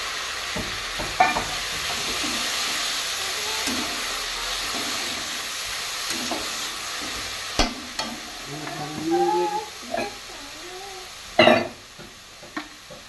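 Soaked and drained mung dal frying with spices in a pan, giving a steady, fairly quiet sizzle and hiss broken by occasional scrapes and clinks of stirring.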